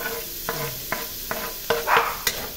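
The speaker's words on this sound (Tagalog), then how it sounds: "Palalagay ko na yung aking sweet ham. Ayan. Sweet ham yan mga lang. Sabay ko na din yung hotdog." Bacon, sweet ham and chopped hotdog fry in a pan for garlic fried rice: a soft sizzle under sharp, evenly spaced spatula scrapes and taps, about six strokes.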